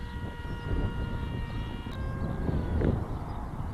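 The electric motor of an S800 Sky Shadow RC flying wing whines at just over half throttle in flight, a thin steady tone with slight pitch shifts over wind and outdoor rumble, no talking.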